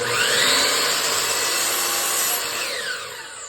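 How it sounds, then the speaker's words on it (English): A saw makes a crosscut through a board on a simple crosscut sled, a loud, close, continuous cutting whine that holds steady and then tapers off near the end. "anytime you're cutting a crosscut like this"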